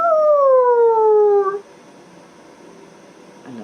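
A person imitates a wolf howling at the moon, a single long, loud, sliding voiced howl that falls gradually in pitch for about a second and a half, then cuts off into quiet room tone.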